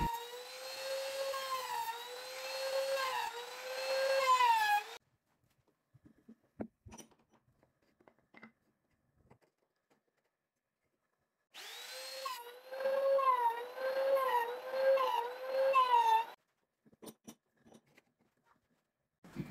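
A high, whining wood router cuts a groove in wood in two loud bursts, with a quiet gap of faint clicks and handling noise between them.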